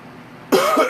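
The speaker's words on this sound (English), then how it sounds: "That cough has been bothering me way too long today." A single sharp cough bursts out after a quiet moment, loud and close, followed by a brief throaty rasp.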